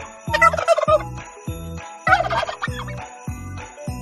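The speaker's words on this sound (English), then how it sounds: "Turkey." A turkey gobbles in two rapid warbling bursts, close and clear, over a steady rhythmic backing beat.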